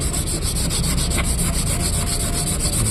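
Steady, rapid scratching of fine sandpaper rubbed back and forth over rusty metal to remove rust, close and continuous with no talking.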